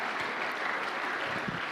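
A church congregation bursts into sustained applause, a dense, steady wash of many hands clapping together, loud and continuous throughout with no talking.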